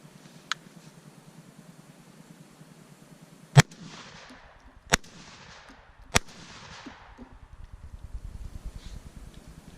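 A Beretta A300 Outlander shotgun fires Federal Hybrid number 6 shot outdoors, three sharp, loud blasts about a second or so apart, each with a brief echo, amid quiet wind and rustling.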